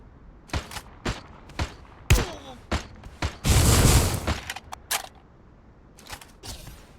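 Gunfire in a squad shooting video game cracks in sharp, loud single shots at irregular intervals, with one dense sustained burst in the middle, mixed with game effects.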